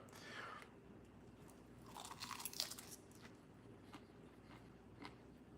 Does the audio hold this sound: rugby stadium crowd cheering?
no